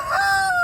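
A rooster gives a single clear crow, close and loud, held steady for under a second with no talk over it.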